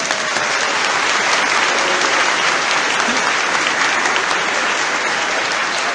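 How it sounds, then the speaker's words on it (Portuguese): A church congregation applauds during Mass, a steady, dense wash of clapping from many hands that fills the room without pause. "Vamos aplaudir os orados."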